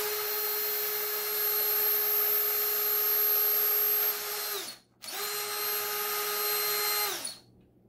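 A power drill driving a screw into a 3/4 inch wooden block, two whining runs of a few seconds each, separated by a brief pause and close up, with no voices.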